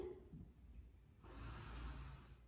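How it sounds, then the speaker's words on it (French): A deep breath drawn in through the chest during a Pilates class, a steady close airy inhalation lasting over a second, with no talk. "On prend une inspiration thoracique."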